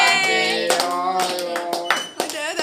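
Several people clap together at a birthday celebration during a wedding reception, a loose flurry of close, overlapping handclaps mixed with voices and cheerful talk.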